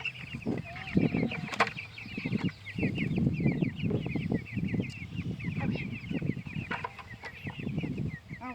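Meat chickens cluck continuously in a busy flock close by, with soft rustling and brief flapping bursts mixed through the steady chatter, moderately quiet overall.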